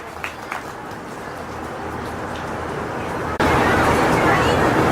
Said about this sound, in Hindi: जोरदार तालियों की गड़गड़ाहट रुकनी नहीं चाहिए